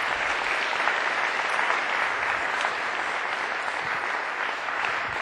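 Steady, dense applause from a crowd at a youth democracy debate tournament final, cheering the winning school, sustained at an even level throughout with no talking over it.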